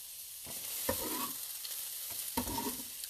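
Diced vegetables and garlic fry in hot oil, a steady sizzle broken by a few stirring scrapes of a utensil in the pan.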